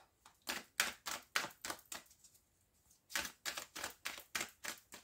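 Tarot cards being cut and shuffled, a run of crisp papery flicks and taps in two quick clusters separated by a brief pause, close and fairly quiet.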